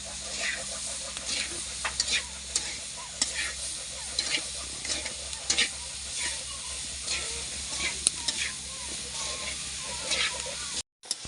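Grated cassava and sugar are stirred in a pan as they cook into bukayo, with a continuous soft sizzle and scraping spoon strokes recurring through the stretch, fairly quiet and close.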